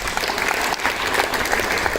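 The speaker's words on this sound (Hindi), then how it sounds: "जोरदार तालियां प्रिंसिपल मैम मिसेस सरूर खजूर के लिए" Loud, steady applause from a crowd for the school principal at a Diwali celebration, continuous clapping throughout with no voices over it.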